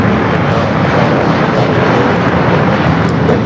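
A fixed-wing airliner roars down runway 25 right at LAX on its takeoff run, a loud, broad, sustained engine rumble with no break.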